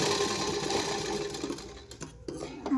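A sewing machine runs close by, stitching tucks into a blouse cup with a busy continuous whir that briefly pauses and restarts near the end.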